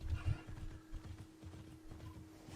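Hooves clip-clop in a quick rhythm as a horse gallops in Immortals Fenyx Rising, a steady run of soft thuds with a low game hum underneath.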